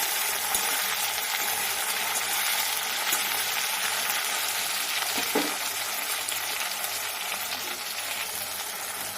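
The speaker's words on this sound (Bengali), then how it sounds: "এরপর আমি কুচিয়ে রাখা টমেটোটা দিয়ে দেব" Chopped tomato and ginger frying in a pan, a steady close sizzle running unbroken throughout, with a brief stirring scrape partway through.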